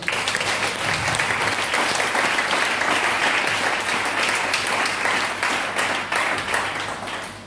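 A church congregation applauds to acclaim the Lord, a steady loud wash of clapping that fills the whole span and eases slightly toward the end.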